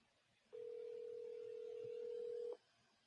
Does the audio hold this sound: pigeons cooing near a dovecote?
no